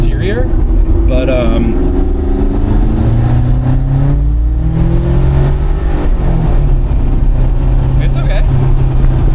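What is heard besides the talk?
1995 turbocharged V8 car engine accelerating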